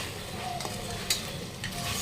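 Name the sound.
stirring tomatoes with salt and turmeric in a pan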